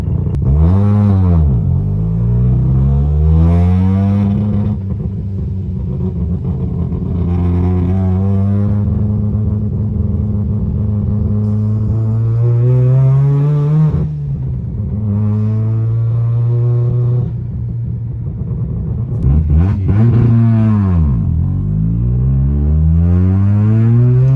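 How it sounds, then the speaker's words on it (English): A loud rotary-engined car with a T56 gearbox revs and drops repeatedly, its pitch sweeping up through gears and falling back, a buzzy droning rasp throughout with no talking. "you can hear the car and experience like what it's like to drive the car"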